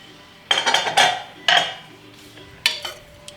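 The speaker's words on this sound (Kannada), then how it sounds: "ಸೊ ಕುಕ್ಕರ್ ಪ್ರೆಷರ್ ಎಲ್ಲ ಹೋದ್ಮೇಲೆ ಮುಚ್ಚಳನ ತೆಗಿಬೇಕು." A pressure cooker lid is opened after the pressure has released, with three or four sharp metallic clanks and clinks of pots and utensils, close and loud, with no talking.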